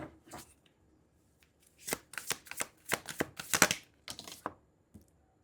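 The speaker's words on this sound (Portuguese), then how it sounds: "Vou pegar as duas cartas," Tarot cards are shuffled and drawn in a run of sharp papery riffles and slaps, close by, starting with a couple of soft touches before a dense cluster of quick flicks, then a final few snaps and quiet.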